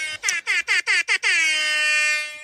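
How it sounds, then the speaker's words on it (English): A loud DJ air horn sound effect fires in a rapid string of about six short stuttering blasts, then holds one long sustained honk that tapers off, close and piercing with no talk. "my own DJ air horn"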